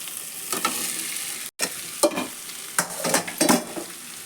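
Beans are stir-fried in hot oil tempering with tomato for a North Karnataka-style palya, giving a constant close sizzle broken by several sharp spatula scrapes and stirs against the pan.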